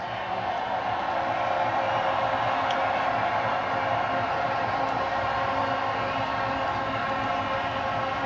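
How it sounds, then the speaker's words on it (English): A packed stadium crowd celebrates India's T20 World Cup final win over South Africa, cheering Rohit Sharma and his team with a dense, continuous roar of applause and shouting that holds steady throughout. "Round of applause one more time for Rohit Sharma and his men."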